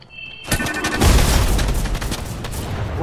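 Rapid drum gun fire in a video game, a dense loud burst of shots starting abruptly and continuing as sustained rattling bangs with a heavy low-end boom.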